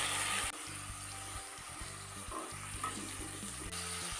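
Onion and tomato sauté in a pan for a tamarind kuzhambu, giving a steady, close sizzle that runs without a break over a low humming drone, with no voices.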